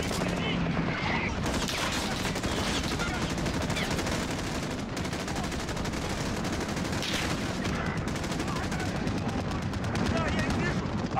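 A human voice imitates M4A1 and ACR rifle fire from Modern Warfare 2 gameplay, delivering loud, dense, rapid bursts of mouth-made gunshots almost continuously, with brief pauses between strings.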